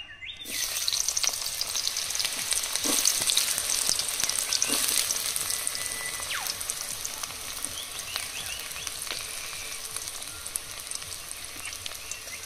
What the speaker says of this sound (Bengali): তেল গরম হয়ে গেছে, পেঁয়াজ কুচি আর কাঁচা লঙ্কা দিয়ে দেবো।